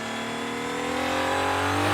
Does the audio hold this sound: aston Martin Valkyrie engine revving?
yes